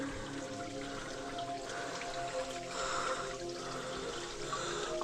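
Baxter Falls in Kondalilla National Park barely trickling, a thin, steady wash of splashing and dribbling water heard at moderate distance, soft and continuous with small drip-like flutters.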